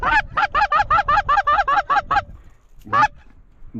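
Specklebelly geese flying in during a windy afternoon goose hunt give about ten rapid, rhythmic honking calls in quick succession, then a short pause and two more honks, fairly close and clear.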